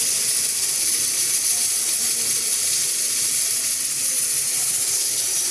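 A pressure cooker on a stove vents steam in a loud, steady, high hiss that runs unbroken from start to finish, close by and with no voices.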